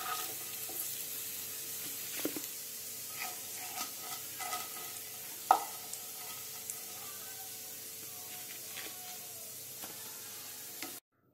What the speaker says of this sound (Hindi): सुरन की दूसरी बाजू को भी हमने सुनहरा होने तक शैलो फ्राई कर लिया है।